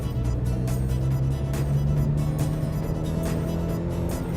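A 2015 Tata Nano GenX AMT in sports mode, its small engine accelerating under a steady, droning hum that holds on without a break, close and fairly loud, with no voices.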